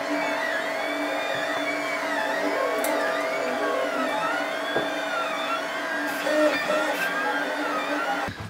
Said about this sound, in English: the other Lulzbot Taz with the Flexi Dually Extruder. And that is printing the Ninja Flex part.